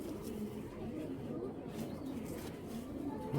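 A high-flyer pigeon coos faintly in a loft, giving soft, low, repeated murmurs over quiet background noise.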